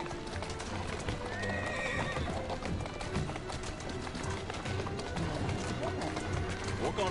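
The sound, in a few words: horse hooves and neigh in a video game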